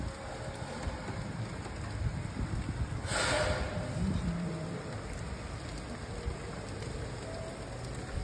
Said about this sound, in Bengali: আর বৃষ্টি হচ্ছে, একটু জল পেয়ে যাবে।